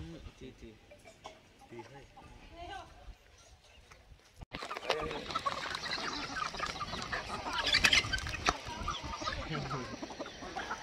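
Hens cluck and murmur close by while people talk, with scuffling and general farmyard noise growing busier partway through.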